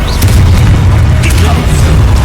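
A Confringo fire spell blast in Hogwarts Legacy, heard as a sustained, loud low rumbling boom with crackling bursts throughout, no voice over it.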